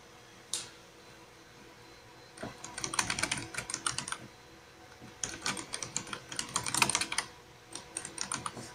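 Keys clatter on a Canon Starwriter 70 word processor keyboard: an isolated press, then two bursts of rapid, close typing separated by a short pause.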